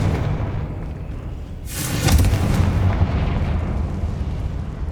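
A fire spell called Confringo is cast in the video game Hogwarts Legacy, setting off a sudden booming blast that rumbles on for a few seconds over a low ambient bed inside a cave.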